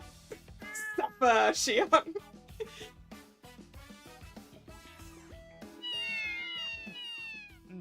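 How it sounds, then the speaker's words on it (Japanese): A crowd of cats meows in a cat café in the video game Variable Barricade, overlapping calls rising loudly early on and more drawn-out meows later, with a character voice speaking amid them over soft background music. "なんで こんなにたくさん猫が。"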